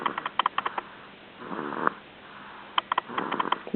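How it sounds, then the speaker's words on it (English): A woman asleep snores in a slow rhythm, her breaths rising and falling in short, uneven bursts with quiet gaps between them, close and fairly soft. "now she's asleep snoring"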